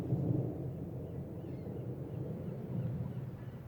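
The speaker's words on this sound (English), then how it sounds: "Ominous thunder and lightning." Deep, ominous rolling thunder at night on Alcatraz island in the 1979 film Escape from Alcatraz, a low sustained rumble that swells at the start and again near the end.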